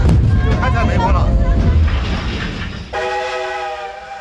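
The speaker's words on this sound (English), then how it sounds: "The steam train stops for a while here" Jiayang steam train on a coal-mining sightseeing line running loudly with rumbling and clatter, then a sustained whistle-like tonal blast near the end; voices are faintly mixed in early on.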